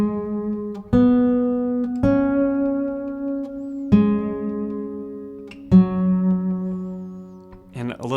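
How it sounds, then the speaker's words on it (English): Slow guitar lick from a worship song, four or five clearly separated plucked notes with long ringing sustain, close and alone, ending with a quick strum. "So I'll play it slowly so you can hear it."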